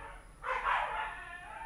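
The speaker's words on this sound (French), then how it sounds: "Ça, c'est les chiens. C'est les chiens de la résidence où on loge." Dogs at a residence bark once in the distance, a short, moderately faint bark-yip with a brief tail, heard against quiet background hiss.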